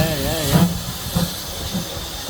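A steam train on the Severn Valley Railway during a spring gala near Kidderminster gives off a continuous hiss of steam with soft, evenly spaced chuffs, heard nearby while people chat.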